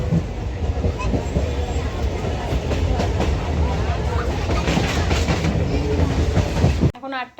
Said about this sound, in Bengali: তো প্রচন্ড ভিড় অ্যানাউন্স হয়ে গেছে নারায়ণহাট লোকাল।